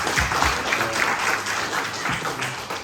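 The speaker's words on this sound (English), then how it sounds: "So let's have a round of applause for him" Audience at a concert event clapping together, a brief dense burst of applause that stays steady and fairly loud, with a few individual claps standing out near the start and middle.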